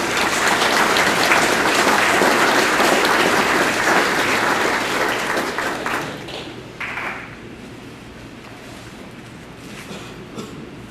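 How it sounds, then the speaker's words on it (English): Sustained audience applause at an FFA banquet, loud and dense at first, then thinning out over the last few seconds to a few scattered claps. "Please give Jace Mayers a round of applause."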